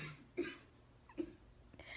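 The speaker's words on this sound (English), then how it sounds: "Hold on, that was a cough." Two short, muffled coughs about a second apart, fairly close, with faint breathy noise between them and no speech.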